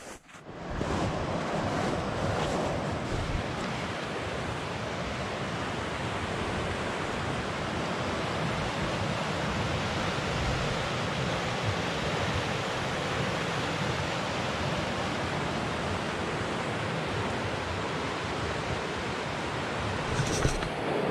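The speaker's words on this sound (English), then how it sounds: "So these are the rapids in the campground." Rushing river rapids at a campground along the Gunflint Trail in early April, a loud, continuous broadband roar of flowing water with no pauses and no talking.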